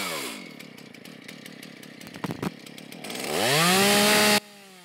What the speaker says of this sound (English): They're all crowned down, so I'm cutting on the underside of the rafter.